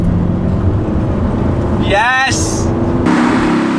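An Audi R8 drives on the road with a loud, steady engine drone throughout, a brief rising whine partway through, and a short excited shout in the middle.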